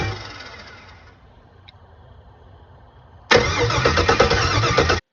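An LS-swapped Dodge Charger engine idles faintly at first, then abruptly cranks over with a loud, steady, rough mechanical roar that runs to the end, with no talking.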